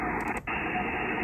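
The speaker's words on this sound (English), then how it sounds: "More high hiss, less high hiss." High hiss from a Kenwood TS-890S amateur radio receiver while its high-cut IF filter is adjusted. Broadband static, steady and fairly loud, with a brief dip partway through.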